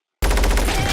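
Movie gunfire from The Tomorrow War bursts in after a brief silence, a loud, dense rapid-fire volley of guns that continues without pause.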